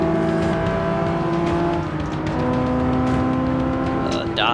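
Nissan Fairlady (Datsun) engine in Forza 6, droning loudly and steadily with rising and falling pitch as it revs through the race, with a voice talking over it.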